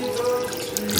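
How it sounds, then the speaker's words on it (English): Clam juice pours into a simmering pot of red clam sauce, a brief close gurgling splash of liquid over a low bubbling background. "now I'm gonna add some clam juice, 8 ounces"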